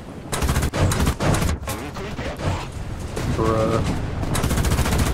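Rapid bursts of tank gunfire from a Type 87 RAT in the War Thunder video game rattle loudly, with a voice speaking briefly over the shooting.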